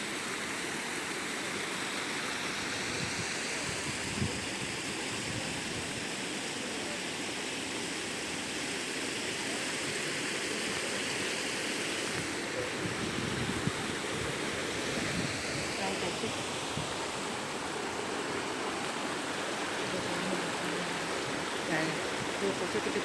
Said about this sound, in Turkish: Çok güzel burada da şelalemiz var.